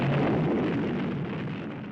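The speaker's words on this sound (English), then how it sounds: "and then the 15 megaton explosion" A 15-megaton nuclear explosion in a political ad sounds as a loud, dense, broadband roar that rumbles on and slowly fades over two seconds, with no voices.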